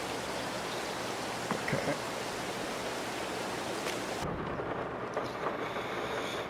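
Rain patters steadily on a truck parked inside a building in Farming Simulator 22, a dense, even hiss with a few light knocks, briefly dropping in tone near the end; a voice speaks a single word.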